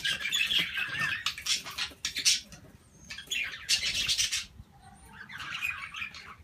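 Budgerigars in a breeding aviary chirp and squawk in bursts of bright chatter, several birds at close to moderate distance, with short pauses between flurries and a rustle of wings.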